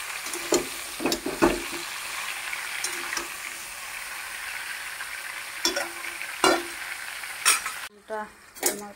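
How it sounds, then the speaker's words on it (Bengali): Ingredients for a pickle fry in a pan with a steady, close sizzle, broken by scraping knocks as they are stirred. "একটু ভেজে নেব।"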